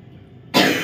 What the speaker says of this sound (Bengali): ফের কাশি শুরু হয়েছে।